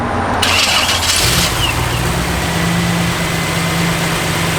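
A 1962 Chevrolet Impala engine cranks and catches, then settles into a loud, steady low idle close by.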